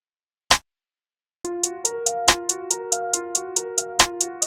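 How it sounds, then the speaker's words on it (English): A single crisp snare hit sounds alone, then after a pause a beat begins with fast ticking hi-hats over sustained synth tones, with the same snare cracking twice on the backbeat. "Next up, we have the identical snare"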